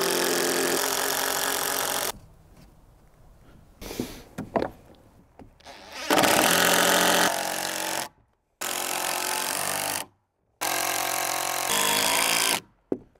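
A power driver drives leftover screws into a wooden header while framing a DIY cabin's exterior window wall, loud whirring bursts separated by pauses, with rattles and handling noises in between.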